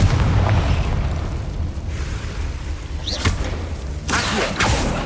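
Confringo fire spell blasts in the Hogwarts Legacy game: a dense rumbling roar throughout, with two sharp bursting hits partway through and near the end.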